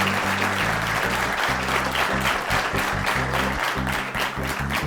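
A studio audience on a Macedonian talk show applauds loudly and steadily for about five seconds, a dense close wash of clapping with music or voices faintly underneath.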